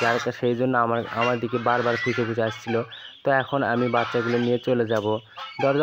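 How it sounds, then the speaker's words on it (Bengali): Domestic geese give repeated loud, harmonic honking calls in bursts, close by, mixed with a person talking over them. "দেখি আমার হাঁসগুলো পেছনে ডাকতে দৌড়ে আসতেছে,"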